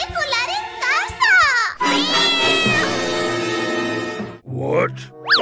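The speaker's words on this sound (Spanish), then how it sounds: "¡El gato del vecino se quiere colar en casa!" A neighbour's cat trying to sneak into a house lets out several rising and falling meows, alongside a long drawn-out cry, with voices sounding close by.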